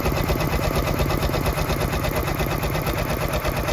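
A machine embroidery head rapidly sews a dense satin stitch over an appliqué on a shirt, giving a loud, close, fast mechanical chatter with a steady even rhythm throughout.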